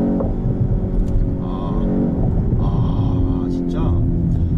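BMW X1 M35i with a seven-speed dual-clutch gearbox revving hard toward 6000 rpm, a steady loud engine drone with rising tone, heard from inside the cabin without any talk.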